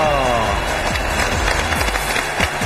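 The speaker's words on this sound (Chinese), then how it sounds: "我们给他点掌声鼓励一下，好不好？" A studio audience at a job-seeking television show applauds in a dense, steady wash of clapping that runs throughout, with a voice talking over it.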